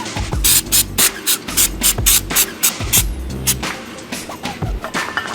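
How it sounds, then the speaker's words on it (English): Caliper cleaner from an aerosol can sprays onto brake pads during a Brembo brake install on a Subaru WRX, coming as a series of short, sharp hissing bursts with brief pauses between them. "first I'll have to hit them with caliper cleaner"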